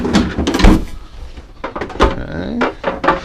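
A Whirlpool residential refrigerator door in a 2020 Newmar Ventana 3407 motorhome is pulled open against a lock, producing a few short thuds and clunks, close by, mixed with a person talking.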